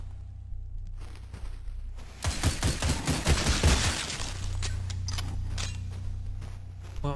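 Gunfire in Cultic Chapter Two comes as a loud, dense cluster of shots and impacts over about two seconds mid-clip, set against a steady low ambient drone before and after.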